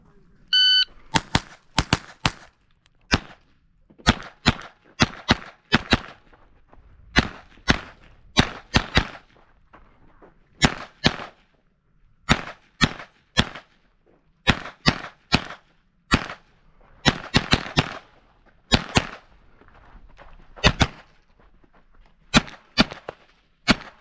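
Kel-Tec CP33 pistol fired repeatedly during a rifle match stage: many sharp, loud cracks in irregular bursts and quick strings over about twenty seconds, with brief pauses between target groups.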